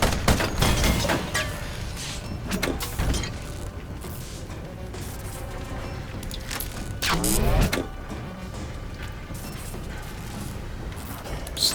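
Ironcast video game battle, with cannon shots fired at an enemy ship as repeated loud bursts and crashes, alongside mechanical whirring and talking over the action.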